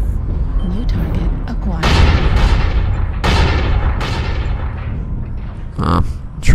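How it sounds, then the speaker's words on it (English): Heavy booming shots from an LBX autocannon in MechWarrior Online, several loud bursts in quick succession with decaying rumble, fired at a Piranha mech amid ongoing game combat noise. "Trying to hit a piranha with LBX autocannon"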